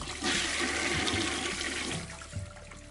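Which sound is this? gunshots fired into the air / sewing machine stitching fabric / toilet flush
toilet flush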